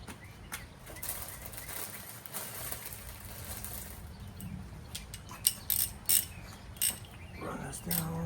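A ratchet clicks in short bursts while engine bolts on a swap-meet Chevy 350 rebuild are torqued down to spec, the sharp metallic ticks close and loud over quiet workshop background, a few clustered near the end.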